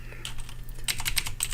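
Rapid keystrokes on a computer keyboard, close and clear, pausing briefly and then picking up in a quick burst of clicks with no voices.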